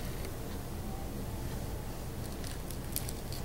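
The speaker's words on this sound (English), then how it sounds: "We really had a huge storm. Sounds like it's starting to lighten up a little bit." Heavy storm rain falls steadily as a dense, even wash of noise that fills the background, with faint patters and drips rising toward the end.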